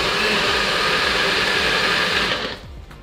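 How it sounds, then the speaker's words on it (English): Kitchen blender runs loudly for about two and a half seconds with a steady high whir, then winds down and cuts off. "So you blend it after."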